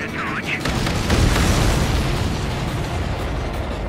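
Explosion in the video game Ace Combat 7, a loud deep boom that swells and rumbles on, with voices talking over it.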